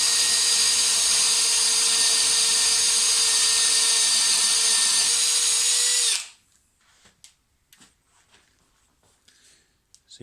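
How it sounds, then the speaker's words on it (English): A power drill fitted with a Star M No. 5010AT adjustable circle cutter bores through plywood, whining loudly and steadily for about six seconds before stopping abruptly, followed by faint scattered clicks and handling noises. "going to drill same size hole next to the initial one that we made"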